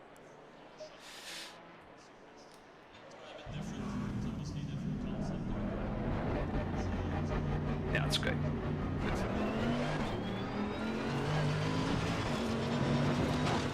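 A front-engined Mercedes race car in a racing simulator starts up and drives, its engine droning steadily and shifting in pitch as it revs through gears, while a person speaks briefly over it.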